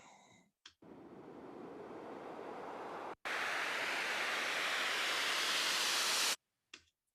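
A synth noise sweep in a music production rises as a broad wash of hiss, cut off by a brief gap midway, then swells again and stops abruptly, followed by a short trailing blip.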